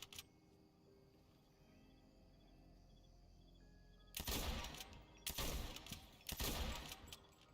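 Rifle fire in a first-person shooter video game: three loud bursts of rapid shots, each lasting under a second, breaking through a steady quiet ambient background.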